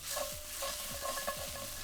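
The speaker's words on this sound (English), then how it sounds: "Add 2 cloves of minced garlic and 1/4 teaspoon of chilli flakes to the pan and give it a stir." Minced garlic and chilli flakes stirred in a hot pan, a bright close sizzle with several quick spoon scrapes and clicks over about two seconds, no voices.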